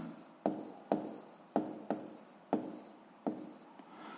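Pen writing on paper while working a seventh-grade physics problem: close, soft scratchy strokes in quick bursts, each starting with a small tap, repeating steadily with short gaps and no voice over them.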